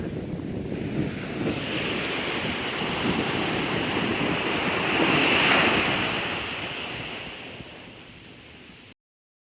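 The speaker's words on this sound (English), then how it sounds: "Went to the beach." Ocean waves roll onto a New Jersey beach in a steady wash of surf, swelling slightly midway, with strong wind buffeting the microphone throughout and no voices.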